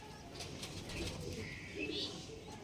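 Faint, soft cooing comes from leg-banded pigeons kept for sale, a few low, drawn-out calls rising gently over a quiet, hissy background.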